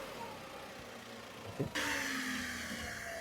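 A Tata Xpres-T's engine catches at about 1.7 s with a brief thump, then settles into a steady, fairly loud, close idle hum with a faint higher whine. A quieter background murmur comes before it.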